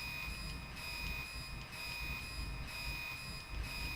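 Rumbling rail noise from a train passing in a video game, a steady loud rolling drone with a sustained high whine and faint periodic clatter, heard alone without talk.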